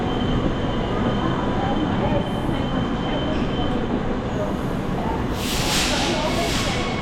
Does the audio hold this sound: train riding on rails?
yes